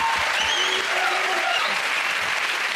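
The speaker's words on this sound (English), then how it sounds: "We'll come off the applause again." Studio audience applause on a comedy panel show, a steady close burst of many hands clapping with faint voices mixed in.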